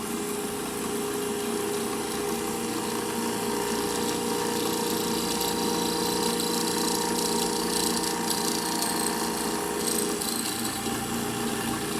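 A milling machine cuts a square hole for an eye vent frame in a fabricated eye tube, a steady continuous whine and grinding hum close by, with no talking.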